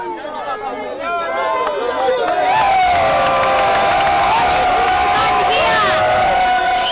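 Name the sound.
miners cheering in Congo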